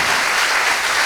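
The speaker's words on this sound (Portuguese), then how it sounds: "E vamos aplaudir Jesus bem forte, bem forte." A church congregation claps loudly and steadily for Jesus during a worship service, a brief, dense burst of applause with no voices over it.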